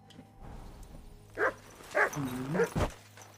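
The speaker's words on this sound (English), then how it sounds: "Good dog, Mutt." Mutt, a dog in Kingdom Come Deliverance 2, gives a quick run of four or five close, sharp barks and yips, some with a whining edge, over a low steady hum.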